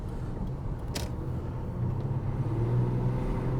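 A Subaru SVX sports car engine idles with a low, steady hum that gradually swells louder, after a brief sharp click near the start.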